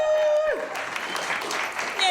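An audience at a live book event breaks into applause after a thin tone fades, a dense, steady wash of clapping filling the room at close range for the rest of the moment.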